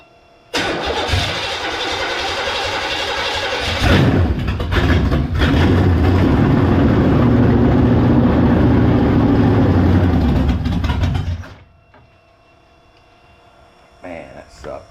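A car engine fitted with a two-barrel carburetor, used in engine testing against a faulty four-barrel, starts and runs loudly at a steady roar for about ten seconds, then cuts off abruptly into near silence.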